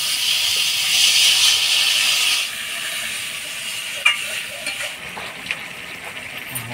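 Water poured into a pan of potatoes cooked with turmeric, salt and spices hits with a loud, steady steam hiss that softens after a couple of seconds into quieter sizzling with a few small pops.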